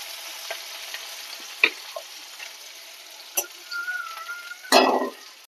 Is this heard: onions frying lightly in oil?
yes